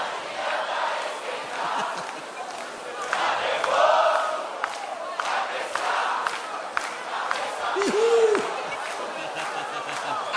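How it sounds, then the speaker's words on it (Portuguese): A live concert crowd at a sertanejo duo's DVD recording cheers and applauds steadily, with shouts rising and falling, dense clapping throughout and a sung or shouted voice briefly standing out. "Eu quero uma salva de palmas para aquela dupla que canta assim"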